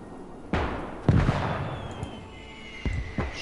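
Machine gun fire in the World War II game Call to Arms: Gates of Hell, Winter War front: a few sharp, loud bursts and pops spaced unevenly over a steady battlefield rumble and a faint whine.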